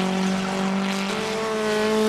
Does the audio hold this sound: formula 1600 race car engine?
yes